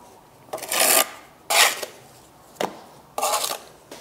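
A steel trowel cuts excess mortar from freshly laid bricks in four short scraping strokes, each a gritty rasp lasting about half a second with quiet gaps between, close and fairly loud with no speech.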